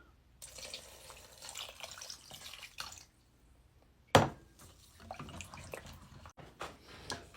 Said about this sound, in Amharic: ከዚያ ውሃ እንጨምራለን።